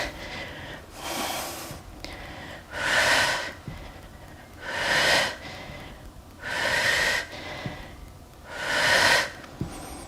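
Slow, deep breathing held in a yoga pose during a strength session, with five long, loud breathy swells spaced about two seconds apart and quiet pauses between them, close to the mic and with no talk.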